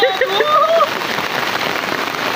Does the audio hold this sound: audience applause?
no